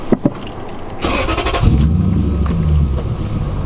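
A BMW 118i cranks and fires on a cold start: a few starter clicks, then the engine catches with a loud burst and settles into a rough, rumbling high idle that holds close by.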